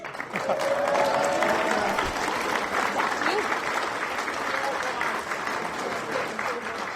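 A banquet crowd at a gaming convention claps steadily and loudly, with scattered cheers and voices mingling in the sustained applause.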